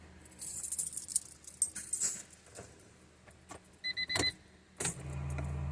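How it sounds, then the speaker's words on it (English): Keys jingle and click in the ignition of a Honda CRX, close up, with a pair of short electronic dash chimes as the key turns and a low steady hum settling in afterward. "turn the key until everything comes on."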